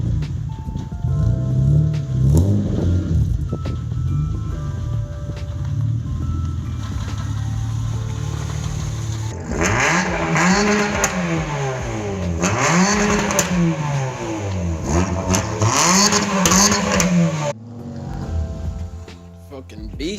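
A small Toyota Corolla rally car engine revs repeatedly close by, rising and falling in several sweeping bursts after a steadier idle, with voices talking over parts of it.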